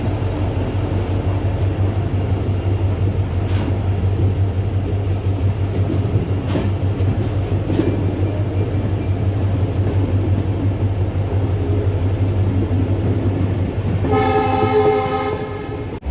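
Tinsukia Vistadome Express, an Indian Railways train with its locomotive attached, rumbles steadily as it departs a junction, with faint clanks and a loud horn blast near the end.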